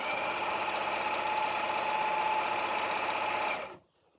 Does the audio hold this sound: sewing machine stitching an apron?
yes